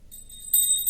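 A bell rings in clear, bright tones, starting softly and then struck louder about halfway through, with a second strike near the end and a lingering shimmer, no voices.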